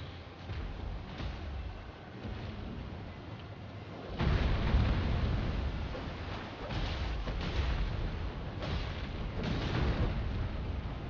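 A boss in Elden Ring launches a fire attack, setting off a deep rumbling blast that swells suddenly and rolls on as a sustained, muffled roar through the fight.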